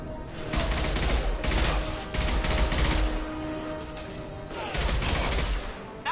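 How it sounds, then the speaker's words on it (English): Concussive shots and gunfire in a Mass Effect 2 firefight come as loud, dense bursts of repeated blasts with brief gaps between volleys, close and filling the scene. "Firing concussive shot!"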